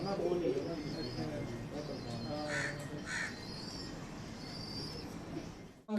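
Pagal Topi pigeons cooing softly in a loft, with low murmuring calls repeating under steady conversation and a few sharper bird calls mixed in.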